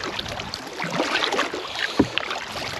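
Kayak paddle strokes on Loch Maree, with soft splashes and water swirl over steady wind noise and one sharper dip near the end, close and moderately loud.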